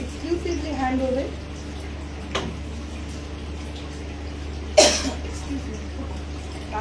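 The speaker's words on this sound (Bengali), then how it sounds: "কাশি হয়েছে কারণ এটা এতক্ষণ কথা বলে লাইভ করছি তো একটু কাশি হচ্ছে।" A woman coughs and clears her throat during a long live saree showcase, one sharp cough standing out after a brief murmur of speech, close and moderately loud over a low steady hum.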